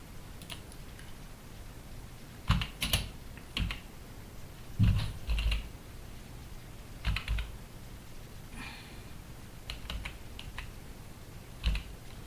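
Computer keyboard typing during a market chart analysis session: scattered short bursts of key clicks with pauses between them, fairly soft and close, no talking.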